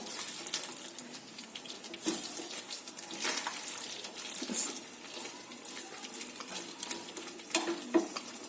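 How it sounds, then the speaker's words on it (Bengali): Chilli paneer is stirred in a pan with chilli sauce and plenty of chilli, a faint, soft sizzle broken by scattered spatula scrapes and taps. "দিয়ে এটাকে 1 থেকে 2 মিনিট এভাবে নাড়াচাড়া করবো।"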